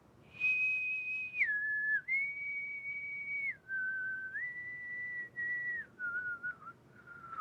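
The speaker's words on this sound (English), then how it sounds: "I love the whistling on this part" A clear, solo whistled melody in a song, a pure tone stepping between held notes in a slow, mournful line, moderately quiet with no voices.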